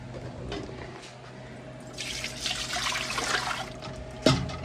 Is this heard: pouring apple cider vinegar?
yes